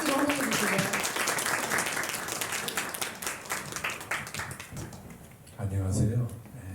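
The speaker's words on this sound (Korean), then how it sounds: "총장님 앞으로 좀 나와주시겠어요? 박수로 환영해 주시고요." Applause from a university forum crowd welcoming the president to the stage, a spread of clapping that gradually thins and fades, with a voice speaking briefly near the end.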